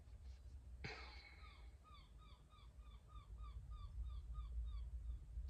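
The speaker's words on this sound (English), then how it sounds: "There is a pretty seagull laughing and singing his way through the morning" A distant seagull gives a long series of quick laughing calls over a steady low rumble, after one sharp thump near the start.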